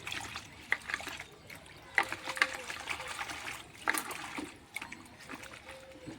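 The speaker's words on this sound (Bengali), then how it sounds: "পরিষ্কার করে আমি ধুয়ে নিচ্ছি" Fresh mint leaves are washed by hand in water, with soft splashing, trickling and sloshing at close range and a few sharper splashes at irregular intervals.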